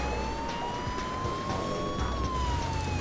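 An emergency siren wails steadily over road traffic noise, a rising and falling tone that grows slightly louder; in the story it comes from an ambulance carrying SWAT agents chasing a gang's van.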